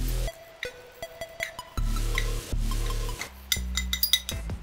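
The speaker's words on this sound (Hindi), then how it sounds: "यहाँ अब हम इसे एक इमाम दस्ते में निकाल लेंगे" Roasted whole spices tipped from a pan into an imam dasta, a metal mortar and pestle, giving sharp metallic clinks and scraping rattles in quick bursts, close and fairly loud with no talk.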